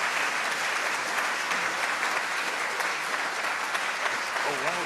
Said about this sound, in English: while we're in applause mode